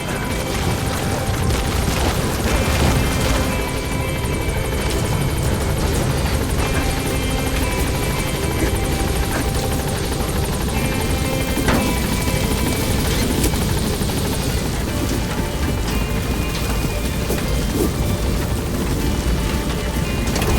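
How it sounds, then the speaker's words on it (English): A support helicopter's steady, loud rotor drone in the video game Metal Gear Solid V: The Phantom Pain fills the whole stretch, constant and close with a dense mechanical roar and no talk over it. "Support helicopter has arrived."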